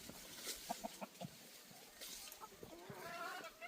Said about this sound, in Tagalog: mga manok ko nakatulubong na sa akin